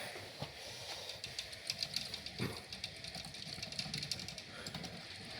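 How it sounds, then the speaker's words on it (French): An electric motor at the bottom of a pivoting mechanism runs and turns the assembly, a quiet steady whir with rapid mechanical clicking and ticking and a few louder knocks throughout. "j'alimente le moteur en bas et que c'est le moteur du bas qui fait la rotation de l'ensemble"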